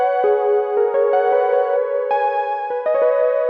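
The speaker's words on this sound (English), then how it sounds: "Very high-pitched sounding sound, but very lush, kind of like a pad bell sound." A bright, sustained synth tone with a bell-like shimmer plays a few slow notes, lush and high, alone without any voices.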